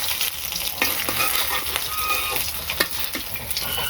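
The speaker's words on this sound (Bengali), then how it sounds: "এবার ভেজে নিই।" Bora fritters fry in a pan of hot oil, giving a steady close sizzle with crackling pops and occasional stirring scrapes throughout, and no talking.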